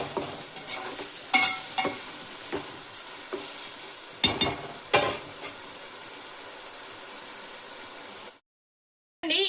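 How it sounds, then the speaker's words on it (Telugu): Dry coconut paste and masala fry in a pan for chicken biryani, a close crackling sizzle punctuated by brisk spatula stirs and scrapes, ending abruptly in a short silence. "బ్రౌన్ కలర్ వచ్చేంత వరకు అయితే ఫ్రై చేసుకోవాలి"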